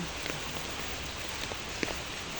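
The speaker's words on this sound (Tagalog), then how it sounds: "Talagang inuulan kaming mag-ina." Steady rain falls on a surface as a dense, even hiss, with a few faint scattered taps and a soft thump, fairly quiet and without any talk.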